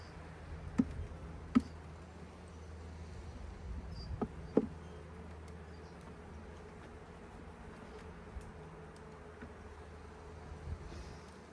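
Honeybees in a nuc colony being inspected give a low, steady hum throughout, faint and continuous, broken by a few sharp clicks and taps from handling the hive frames.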